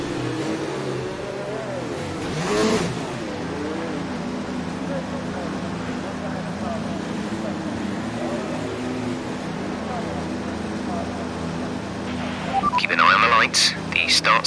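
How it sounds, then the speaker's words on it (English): F1 2019 Formula One car on the grid at the Italian GP, engine held at a steady high drone with one brief rev early on and sharp rapid blips near the end, a voice talking over it. "go through all the gears if you can"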